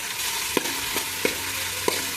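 Onions sizzle in hot oil in a pan, a steady close frying hiss broken by three evenly spaced metallic spoon taps.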